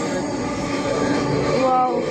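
A metro rail train runs along its track, heard from inside as a steady, dense rumble and hum with faint tonal whine, continuous for a couple of seconds at moderate loudness.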